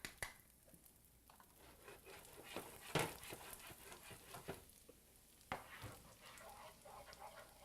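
Chopped garlic dropped into melted butter in a pan, a faint steady sizzle broken by scattered clicks and light knocks of a utensil, with no talk.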